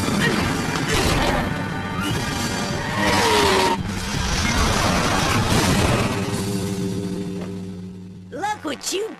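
A cartoon car crash in a Scooby-Doo chase, loud smashing and clattering impacts with skidding, metal debris rattling down, then a short springy cartoon boing effect at the end after the noise dies away.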